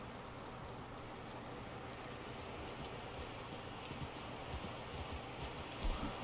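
Horse hooves clip-clop steadily in the Red Dead Redemption 2 video game, a continuous rhythmic trot with faint background ambience and one slightly louder hit near the end.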